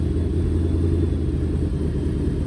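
A Dodge engine idling steadily after coming down from higher revs, a loud, close, even low rumble with no voices over it.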